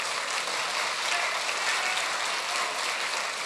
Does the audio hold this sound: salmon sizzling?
no